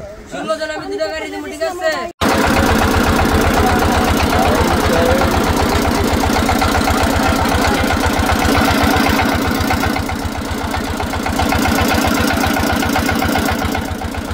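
A trawler boat's engine runs loud and steady with a rapid, even chugging pulse, starting abruptly after a brief stretch of people talking and continuing without a break.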